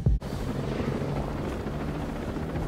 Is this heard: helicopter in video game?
yes